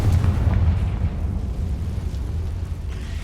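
Confringo explosive spell blasts in Hogwarts Legacy, a loud continuous rumbling boom with a dense low-end roar that holds steady and slowly eases over a few seconds.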